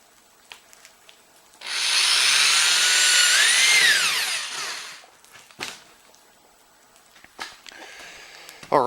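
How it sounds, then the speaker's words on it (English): A power drill whines steadily for a few seconds, its pitch sagging as it bites into the wax of a giant candle, then stops, followed by scattered small clicks and handling noises. "Now, let's drill some holes in it"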